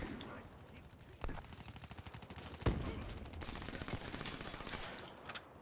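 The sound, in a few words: VMP submachine gun firing in the video game Black Ops 3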